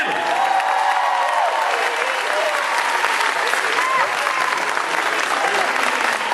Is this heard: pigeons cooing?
no